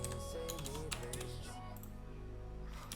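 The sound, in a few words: typing on a mechanical keyboard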